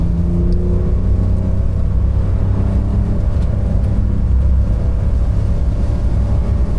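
Porsche 992.2 Carrera T with manual transmission driving in the rain, a steady low engine drone and road rumble inside the cabin with a slowly rising whine as it accelerates, no talking.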